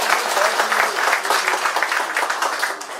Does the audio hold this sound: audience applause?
yes